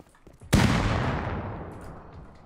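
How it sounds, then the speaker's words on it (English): A grenade explosion in the survival video game Rust: a single sudden loud blast that booms and then rolls off slowly into a long, fading rumble, with no talking over it. "They're throwing grenades at me, man"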